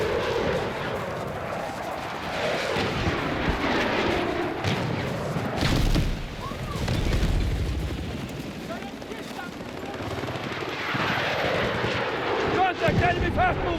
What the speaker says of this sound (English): Contact! Enemy helicopter!